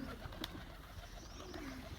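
Pigeons in a large cage being fed in the morning give soft cooing, faint and brief against a low background hum.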